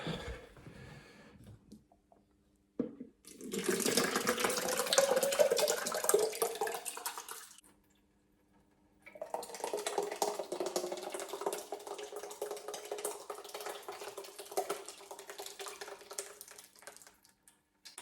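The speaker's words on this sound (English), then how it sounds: "I'm going to pour the rest of the whey in through one of the holes there" Whey poured from a measuring jug through a hole into cheesecloth while making homemade cheese, a steady splashing liquid pour that runs for several seconds, pauses briefly, then resumes as a continuous trickling stream, fairly close and without talk.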